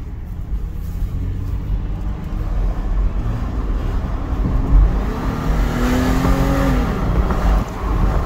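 A Toyota 4Runner SUV engine revs up steadily, pitch climbing and dropping as it shifts smoothly through gears, continuous and fairly close with road noise underneath.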